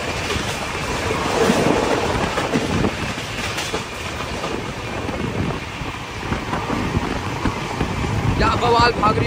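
Rani Kamlapati Shatabdi Express (Bhopal Shatabdi) train running at speed, a loud steady roar of wheels and rushing wind from onboard with faint rhythmic clatter throughout.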